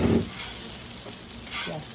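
A pupusa set on a hot griddle gives a brief, close sizzle and hiss that starts loud and then settles to a softer, steady frying sound.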